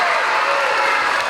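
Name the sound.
audience applause voting for the cello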